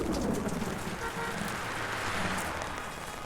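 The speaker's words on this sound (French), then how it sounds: "La pluie était forte," Heavy rain pours down as a steady, dense hiss that stays constant and fairly loud for about three seconds, with no voices.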